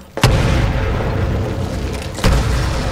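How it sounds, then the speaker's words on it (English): A grenade explodes in the Titanfall video game as a loud, deep booming blast with a sustained rumbling roar, and a second sharp burst follows about two seconds later. "Throwing a grenade."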